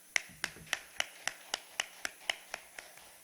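A single person claps at home to welcome two new ministers at a Won Buddhist service, about a dozen crisp, evenly spaced claps at a relaxed pace, close and fairly quiet.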